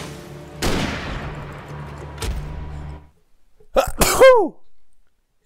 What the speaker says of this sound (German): Da musste ich kurz niesen.